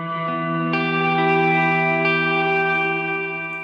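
Electric guitar with drive engaged through a Strymon NightSky reverb pedal: sustained notes added one after another swell into a shimmering, reverberant wash, close and steady with no voices.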